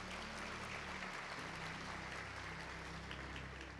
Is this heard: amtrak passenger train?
no